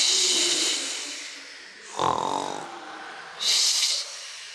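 A person imitates a hunter's snoring with two loud breathy snorts, one near the middle and a harsher, hissier one toward the end, standing out against a continuous low hiss.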